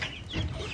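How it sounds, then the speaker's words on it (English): Young chicks in a backyard coop give a brief, moderately close burst of soft clucking and peeping with no talk over it. "And now we're going to check on the chicks."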